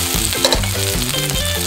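Chicken searing in a frying pan for barbecue chicken, a loud, steady close sizzle of hot oil filling the whole short clip.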